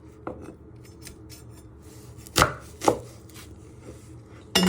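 A knife cutting an onion on a chopping board, a few separate firm chops spaced apart with quiet scraping between them, close and clear with no talking.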